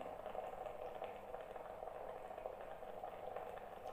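Steady, faint hiss of steam rising from hot water for facial steaming, an even continuous rush with no talk over it.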